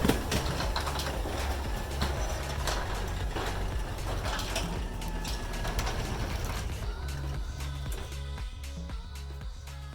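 A LiftMaster Elite Series 8500W garage door opener runs with a steady mechanical whir and ratcheting rattle, close and continuous, easing slightly toward the end.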